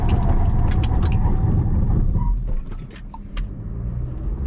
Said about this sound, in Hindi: Volkswagen Virtus braking at 110